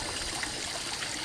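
A small handmade waterfall in a water garden with goldfish and minnow tanks trickles and splashes steadily, a close, continuous watery babble with no voices.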